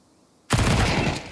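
A loud, close burst of rapid SMG fire in Counter-Strike 2 starts abruptly after a brief quiet moment and continues steadily to the end, with no voices.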